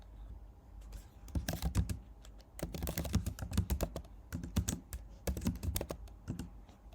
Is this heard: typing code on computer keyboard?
yes